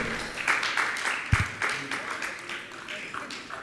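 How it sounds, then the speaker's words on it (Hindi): An audience at a Jain religious gathering claps in honour of a family, a thin, scattered patter of applause with a single sharper clap near the middle, mixed with murmuring voices. "जोरदार ताली बजाकर इनका सम्मान करें"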